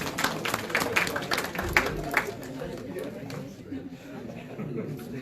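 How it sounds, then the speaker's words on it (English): An audience at the IVS2024 closing ceremony claps for a sponsor, a loud burst of applause and scattered claps that fades after a couple of seconds into murmuring chatter, while a voice speaks over the room. "Please give a big clap for Hilton for sponsoring the event"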